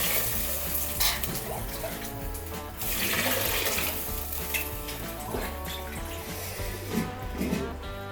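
Water pours into a cooking pot holding rice and toor dal for a traditional Tamil one-pot rice dish, a steady continuous splash and gush running throughout with some clinking of utensils, close and fairly loud, with no talking.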